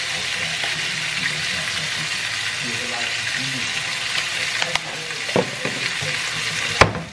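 Short ribs brown in a hot pan with a strong, constant sizzle close up, broken by occasional sharp clinks and scrapes of a utensil near the end.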